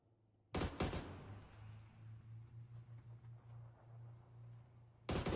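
Gunfire in PUBG: a loud, close burst of shots at the start and another at the end, with quieter distant popping and a low hum between them.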